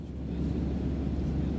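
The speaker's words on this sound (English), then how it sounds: "there is another ambience of airplane." Airplane cabin-style ambience, a steady low rumbling roar with broadband hiss that continues evenly without variation.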